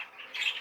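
A short, raspy squawk from a breeding bird, close and fairly loud, rising briefly in strength before cutting off.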